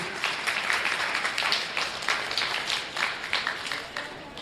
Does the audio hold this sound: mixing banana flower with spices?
no